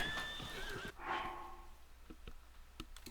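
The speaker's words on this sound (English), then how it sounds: "this is a big-ass horse" A large horse in the video game The Legend of Zelda: Tears of the Kingdom whinnies loudly near the start, followed by scattered hoof clops and thuds, fairly close.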